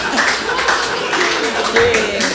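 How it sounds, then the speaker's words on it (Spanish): A studio audience on a talk show claps briefly for a guest, the short burst of applause mixed with voices and a few high squeals over about two seconds. "un fuerte aplauso para ella"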